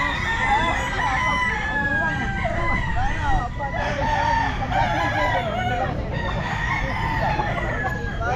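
At a crowded pet market, stag roosters crow again and again in overlapping calls with clucking fowl around them, moderately near, with market bustle and faint voices underneath.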